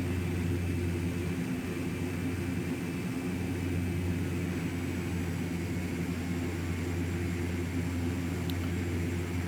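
Steady low propeller drone and rumble from a Carenado F50 turboprop airliner in X-Plane, heard from inside while landing on a sloped runway, continuous and fairly loud with no talk.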